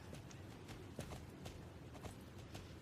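Horse hooves clip-clop at a steady walking rhythm while riding in the video game Star Stable Online, each hoof strike crisp and close over a soft background hum.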